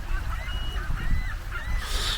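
Birds flock around a very small fishing boat chumming the water offshore in Florida, giving off a mix of honking, squawking calls over wind and water noise, several overlapping cries at moderate distance.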